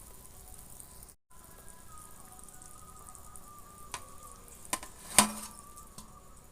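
Whole eggs go into a hot dhaba-style egg curry masala on the stove, raising a soft, steady sizzle. A few sharp clinks of a metal utensil against the pan ring out near the end.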